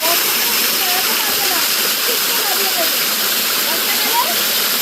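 Hudhudi waterfall in Purulia pours with a loud, constant rushing roar, close and steady throughout, with faint voices and chirps mixed beneath the water.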